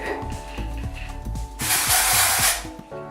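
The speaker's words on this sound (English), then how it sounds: "I am just gonna build up a bit more dry shampoo" Dry shampoo sprays onto hair in a loud, close hissing burst lasting about a second, following softer background sounds.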